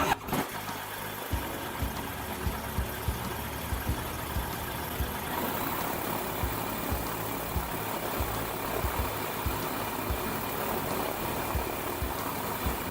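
A gyroplane's propeller engine coughs and catches after a brief start, then settles into a steady, loud idle that runs continuously to the end.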